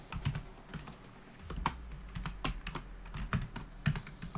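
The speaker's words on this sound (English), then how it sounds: "I cannot hit the keyboard correctly today" Someone types on a computer keyboard while coding, a close run of uneven, quick key clicks with a few heavier thumps and brief pauses between bursts.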